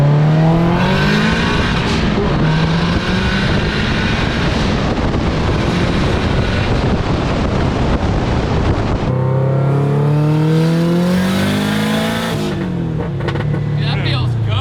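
A Mazda Miata swapped with a Subaru WRX engine accelerates hard under boost, its loud engine note rising through the gears with one shift, heavy wind noise around it and occasional talk inside the car.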